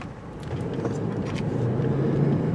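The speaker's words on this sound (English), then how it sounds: "we're going to take some mild speed humps at 20 miles per hour" A 2021 Toyota Land Cruiser rolls over a mild speed hump at 20 mph, a steady low engine and road rumble with a faint muffled thump, heard from inside the cabin.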